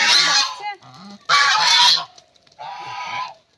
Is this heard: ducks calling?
yes